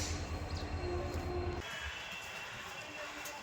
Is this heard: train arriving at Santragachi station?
yes